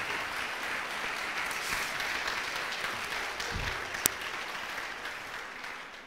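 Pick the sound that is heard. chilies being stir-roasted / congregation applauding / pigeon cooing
congregation applauding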